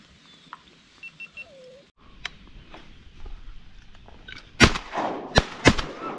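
Shotguns fire while duck hunting on Wisconsin public land, a few sharp loud reports in the second half, one after another, over a quiet outdoor background with faint bird calls.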